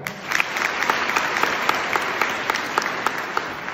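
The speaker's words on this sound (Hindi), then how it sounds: "ताली बजाओ।" College students in an auditorium clapping together at a teacher's prompt, a dense, fairly loud round of applause with distinct rhythmic group claps standing out as the crowd falls into unison.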